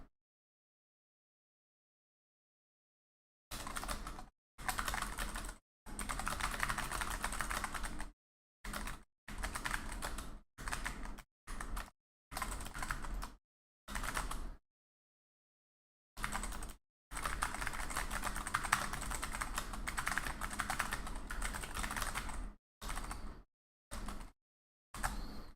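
Close, steady clatter of keys typed on a computer keyboard in bursts of varying length separated by brief silences, after an opening few seconds of quiet, with no speech.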